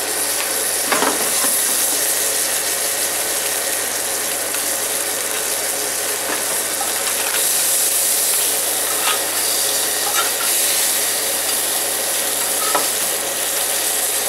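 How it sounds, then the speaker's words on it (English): Loch Fyne scallops pan-frying in a hot pan, giving a loud, continuous close sizzle with scattered sharp crackles throughout. "We're looking forward to the scallops to start to turn nice and kind of golden brown."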